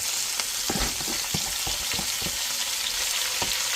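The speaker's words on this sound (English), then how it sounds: "we're going to add our onions and garlic in here" Onions and garlic sauteing in rendered fat left over from cooking greens and cabbage, a steady close sizzle with scattered stirring knocks and scrapes, no talking.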